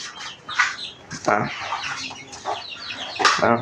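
Free-range country chickens cluck and squawk repeatedly nearby in the rain, a busy, irregular chorus of hens with occasional louder calls.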